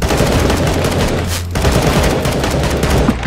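Automatic gunfire in the CS:GO video game, rapid continuous bursts that are loud and close, with a brief gap partway through before the firing resumes.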